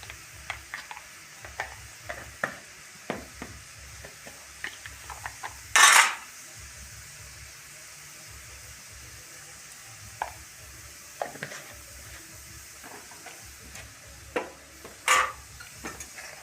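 Jute leaves cooking in a pan after salt and turmeric, a low steady sizzle with scattered scraping stirs and two sharp metallic clanks of utensil on pan, close and unaccompanied by talk.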